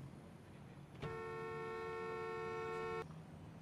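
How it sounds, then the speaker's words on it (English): A car horn blares in one long, steady sustained toot lasting about two seconds in the Parking Tycoon video game, loud over a quiet background hum. "God, you guys are driving me crazy with the honking."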